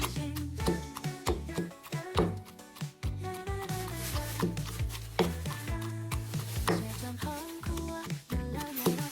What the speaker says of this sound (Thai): เชฟจะใส่ เนื้อมะเขือเทศลงไปประมาณหนึ่งลูกก่อนนะครับ แล้วก็โขกต่อให้เข้ากันให้หมดเลยครับ